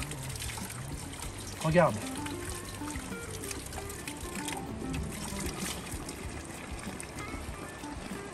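Water running as a Peugeot 205 car part is rinsed before its seal is replaced: a steady low trickle and splash throughout, with a short louder gush near the start and someone talking in between.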